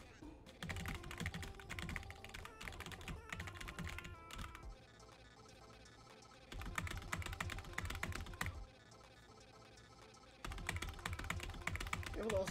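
Computer keyboard keys clatter rapidly during a Friday Night Funkin rhythm game played on D, F, J and K keys, dense bursts of typing over loud game music that cuts in and out.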